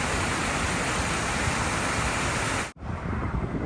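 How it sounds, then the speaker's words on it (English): Steady roaring rush of a roadside waterfall in Michigan's Upper Peninsula, loud and close, a broad constant wash that cuts off abruptly near the end and resumes more softly. "gives you this waterfall, and you can see clear up there in the back, gives you that waterfall."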